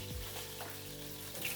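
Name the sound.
onions frying in a pan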